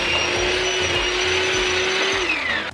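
An electric mixer whirs loud and steady while vanilla extract is mixed into coffee cake batter, its pitch dropping slightly as it slows at the end.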